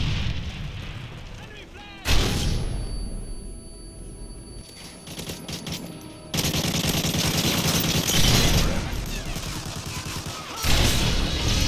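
Bursts of AK-47 rifle fire in Call of Duty MW3, loud and dense, with rapid strings of shots, explosions and dense battle noise, breaking off in sudden cuts between heavy spells of fire.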